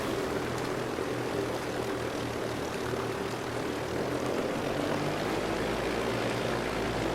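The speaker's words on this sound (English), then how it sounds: "I'm going to keep both engines going for now." Twin propeller engines of a Dornier flying boat in Microsoft Flight Simulator, a steady close droning hum with a deeper rumble rising in the last couple of seconds. No voices over it.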